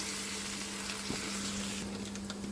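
Garlic added to hot oil with flattened rice gives a steady, soft sizzle of frying throughout, with a low hum beneath and no talk.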